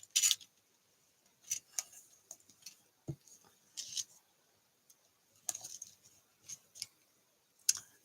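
Scissors trimming leftover clear window material on a handmade card, a series of crisp, close snips spaced irregularly with quiet pauses between.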